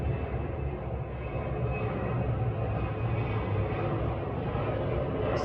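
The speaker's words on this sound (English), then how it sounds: "that's like the 3rd plane in like 5 minutes." An airplane flies overhead, its engine a steady, loud low roar that fills the whole stretch without fading, with no voices over it.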